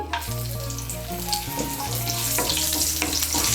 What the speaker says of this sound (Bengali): ফোড়নটা দিয়ে একটু নাড়াচাড়া করে নিয়ে